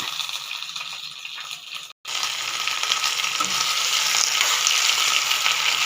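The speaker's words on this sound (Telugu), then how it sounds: "వామాకు ఇలా వేయించుకోవాలి." Ajwain leaves sizzle steadily in hot oil in a pan, a loud continuous frying hiss broken by one brief cut, then resuming stronger, heard up close.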